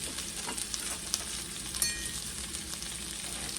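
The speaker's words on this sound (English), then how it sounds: "Now put the onions in." Onions frying in a pan alongside potatoes and smoked sausage, a continuous moderate sizzle with a few faint clicks and scrapes, heard alone without speech.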